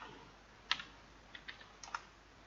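Light clicks on a computer keyboard while an HTML table tag is typed, a handful of faint, crisp keystrokes in two loose bursts over a quiet background, with no talk.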